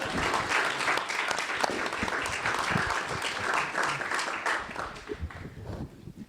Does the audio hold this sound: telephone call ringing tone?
no